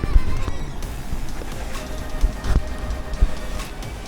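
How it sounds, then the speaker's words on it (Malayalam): Busy interior of a Romanian railway station, with low rumbling and clattering from trains and wagons under a steady crowd murmur, plus occasional louder knocks and thumps. "ഇതാണ് റെയിൽവേ സ്റ്റേഷൻ, നമ്മൾ നിൽക്കേണ്ട സ്ഥലവും കാര്യങ്ങളൊക്കെ."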